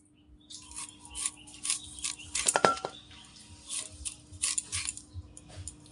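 A knife cuts an elephant apple (chalta) into thin strips, giving a series of crisp, close slicing strokes in uneven rhythm, with a cluster of sharper blade contacts in the middle.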